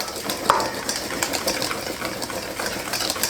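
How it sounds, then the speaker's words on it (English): A whisk stirs dry flour, sugar, baking powder and salt in a bowl, a quiet continuous scraping and tapping with one sharper clink early on, close up and without talk. "I'm gonna just whisk that together"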